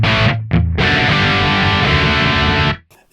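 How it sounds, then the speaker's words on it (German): Dry crunch tone from a modified 1982 Marshall JCM 800 guitar amplifier, loud distorted chords ringing out alone, with a short choked stab near the start and a sustained chord cut off near the end. "Hier nochmal der trockene Crunch-Sound von dem Verstärker."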